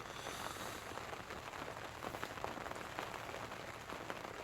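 Steady rain falls outdoors as a constant, even hiss of drops on surfaces, faint and unbroken, with no voices.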